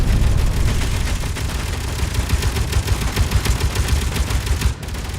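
Guns fire in the Space Engineers building game as a loud, dense, continuous rattle of rapid shots over a low engine rumble.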